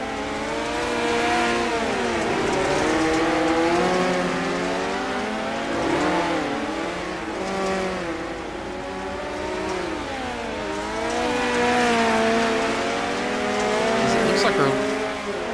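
Race cars roar around a dirt track at the Chili Bowl, engines rising and falling as they pass, tires squealing, while an announcer calls the race over the continuous loud racing noise.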